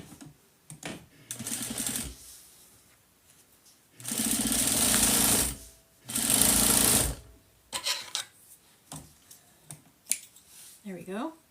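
A sewing machine stitches a small Halloween charm bag in two loud bursts of about a second each, with quieter handling and snapping noises in between.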